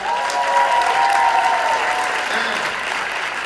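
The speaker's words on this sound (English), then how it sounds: "big round of applause for everybody" Audience clapping at the closing night of a Cinderella stage production, loud sustained applause filling the hall, with a faint voice or tone briefly under it.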